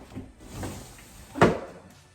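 A handmade cardboard door on a cardboard organizer is opened and closed once, giving a quiet soft knock with faint rustling before it, then stillness.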